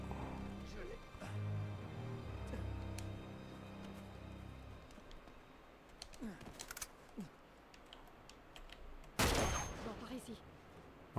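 Sniper fire in the video game Uncharted 2, with a few sharp shots cracking out over a busy game mix and one loud, close report near the end.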